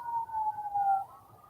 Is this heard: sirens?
yes